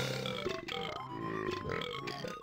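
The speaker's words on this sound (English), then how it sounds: "just quit burping" Cartoonish burping sounds from the video game Banjo-Kazooie, several loud, croaking belches in quick succession over busy game audio, with no talk.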